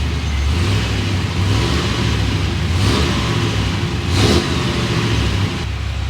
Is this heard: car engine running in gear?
yes